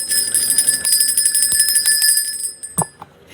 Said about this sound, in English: I tried not to make the bell too loud that time.